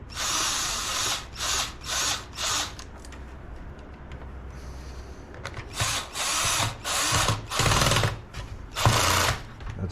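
A cordless drill with a screwdriver bit drives a screw into a Street Glide motorcycle fairing, revving in short repeated bursts with brief pauses between them, loud and close.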